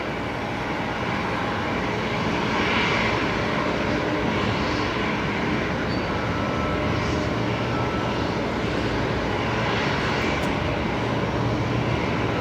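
Jetstar Airbus A380 landing on runway 01 right at Brisbane Airport: a steady, broad roar of jet engines, fairly loud and sustained throughout without talking.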